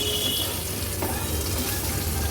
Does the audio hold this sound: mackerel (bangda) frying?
yes